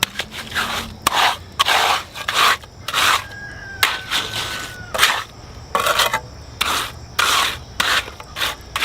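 A trowel scrapes repeatedly in a bonsai greenhouse during glass greenhouse work, a series of short, gritty rasping strokes in an uneven rhythm, close and fairly loud with brief pauses between.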